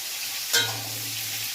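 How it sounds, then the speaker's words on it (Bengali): Potatoes fry with spices in a pan, a soft close sizzle with a brief stirring scrape near the start, then a steady quiet hiss with a low hum underneath. "এবার ভাজা ভাজা করে দেবো আলুটাকে আমরা"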